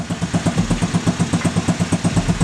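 A small-displacement go-kart engine idles steadily after a carburetor fix, its close, even putter pulsing in a regular rhythm throughout with no other sounds.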